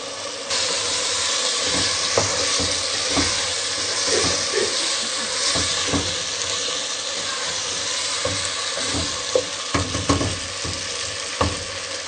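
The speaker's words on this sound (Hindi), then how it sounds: "अब हम इसमें फूल गोभी डालेंगे," Cauliflower florets frying in a pan for a mixed vegetable sabzi, giving a steady close sizzle and hiss throughout with intermittent scraping and stirring clatter.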